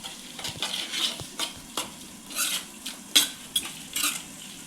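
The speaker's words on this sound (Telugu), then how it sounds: "ఇక ఇది ఓన్లీ ఫ్రై చేస్తున్నా టమాటా" Tomatoes for chicken curry frying in a pan with salt and turmeric, stirred in repeated scraping strokes with a few sharp metal clinks over a soft sizzle, close and moderately loud, no voices.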